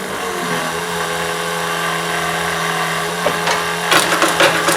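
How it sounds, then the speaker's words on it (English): Steady mechanical hum with a constant electric whine from a fuel pump running on a pulling tractor being readied for the Spring Nationals pull, continuous and fairly close, with a few sharp clicks and clatters near the end. "don't forget to turn the fuel on. Fuel pump."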